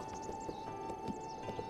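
Horse hooves clip-clop steadily in Zelda: Breath of the Wild, a soft, even trotting rhythm with no voices over it.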